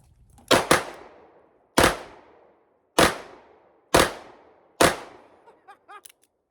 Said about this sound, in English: I'm going to try to shoot them simultaneously at the center target.